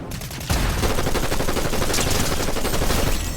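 Rapid bursts of gunfire from a mythic pistol in a Fortnite-style battle royale game, dense and continuous after a brief quiet start, loud and close with repeated sharp shots.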